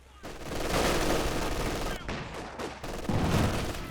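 Machine gun fire from LMG Grenadiers in the Company of Heroes 2 strategy game, heard as dense rattling bursts broken by short pauses, with overlapping battle noise.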